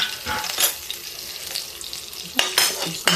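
Cumin seeds and a little red chili frying in a pan for an okra dish, giving a steady soft broadband sizzle with a few louder stirring clatters near the start and end, no voices.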